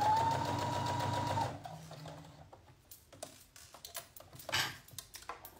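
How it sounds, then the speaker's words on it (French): A sewing machine running a straight seam, a steady close hum with a high whine for about a second and a half before stopping, followed by light clicks and fabric handling. "La couture qu'on va faire, qu'on est en train de faire là"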